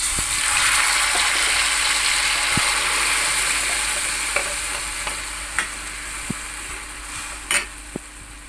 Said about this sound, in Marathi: आणि वाटलेले शेंगदाणे खोबरं वगैरे हे टाकायचं फोडणीला